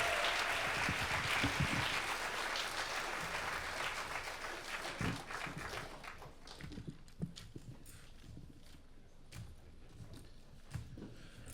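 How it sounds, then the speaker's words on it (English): Applause from the audience at the Nebraska Storytelling Festival, dense and full at first, then gradually thinning out and fading toward scattered claps near the end. "Give a big old round of applause for Dale Johnson."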